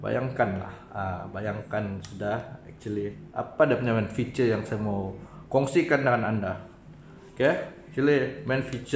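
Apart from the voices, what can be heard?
None of the usual background noises is heard.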